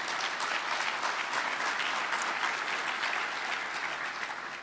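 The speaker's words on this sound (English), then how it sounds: "let's give them a round of applause" Audience applause at the closing ceremony of the 4th South Africa Investment Conference, a broad, sustained roar of many hands clapping from a large hall, even and continuous throughout before easing slightly at the end.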